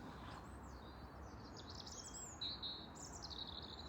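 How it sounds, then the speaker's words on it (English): Birds chirp and tweet outdoors in the countryside over a dewy lawn, faint repeated calls drifting above a quiet background hiss with no talking. "You can probably hear the birds."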